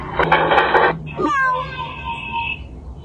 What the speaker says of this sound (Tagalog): nakita niyo yung pusa o